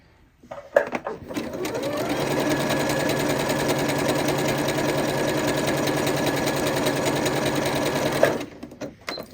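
A Janome Horizon Memory Craft 8200 QC sewing machine runs steadily in a close, loud, even mechanical whir for about seven and a half seconds, starting and ending with a clunk.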